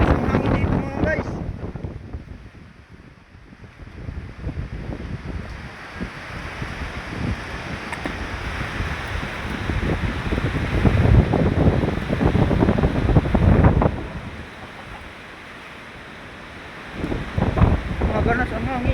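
Strong typhoon wind roars and buffets the microphone in loud, shifting gusts, easing briefly before surging again, with a voice speaking faintly underneath.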